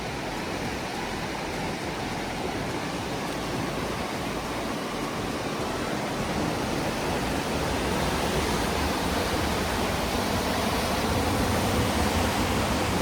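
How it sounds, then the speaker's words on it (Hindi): The Indus river rushes fast and turbulent beneath a wooden suspension bridge, a loud, steady roar of churning water that fills the scene without pause. "नीचे से दरिया जो है वो बह रहा है।"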